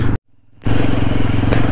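A motorbike that is not an off-road machine, ridden on a rough, broken road between coffee plantations and forest, with a loud, steady engine drone and rattling that cuts out briefly and then returns.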